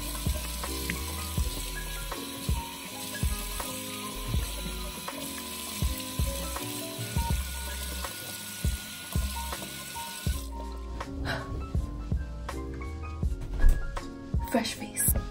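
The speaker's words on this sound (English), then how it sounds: "I'm just gonna wash this off and wash my face off." Water splashes at a sink as someone washes their face during a skincare routine, repeated close sloshing and dripping bursts over a faint hum, with a brief gushing rinse near the end.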